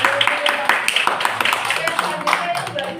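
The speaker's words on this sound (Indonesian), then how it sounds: "Tepuk tangan ya teman-teman." Students clap together in a classroom, a brief burst of many hands with voices heard over it.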